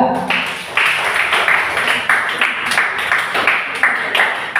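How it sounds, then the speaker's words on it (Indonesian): Classroom applause for a student group, a dense spread of many hands clapping with uneven pulses, steady and fairly loud for several seconds with a brief lull near the start. "Berikan aplaus dulu untuk kelompok 2"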